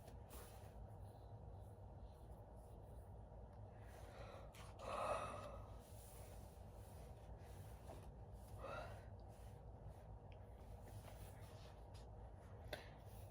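A tired woman gives one drawn-out yawn, a breathy rising exhale that sits close to the microphone over a low steady hum. A fainter breath follows a few seconds later.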